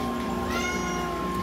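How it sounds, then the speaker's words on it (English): A black cat meows clearly and close by, several drawn-out rising and falling cries over a steady background hum, with no talking. "Black cats are not a bad thing."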